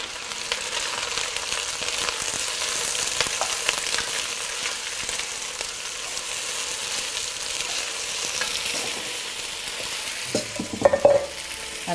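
Onions frying in olive oil over medium heat for potato onion soup, an even, dense crackling sizzle that holds steady throughout, with a few clattering knocks near the end and no speech.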